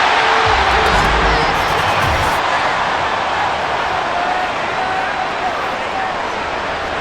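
Loud, constant stadium crowd roar from a Madden NFL 24 football video game on PS5, filling the whole stretch, with a brief low rumble near the start.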